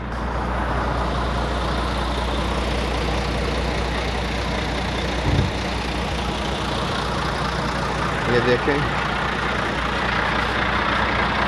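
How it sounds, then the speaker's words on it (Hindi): A Volvo 420 truck carrying a 42-ton trailer load idles with a steady, low diesel rumble from close by, broken only by a couple of brief clunks and a short squeak late in the clip. "वाल्वो 420 गाड़ी है"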